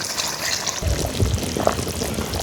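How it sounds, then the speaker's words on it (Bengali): Broth poured into a pot of cooking duck meat, a steady liquid pour and splash that starts after a brief quieter moment and runs on at moderate loudness, close by. "মাংস কষানো হয়ে গেছে এখন ঝোল দিয়ে দেবো"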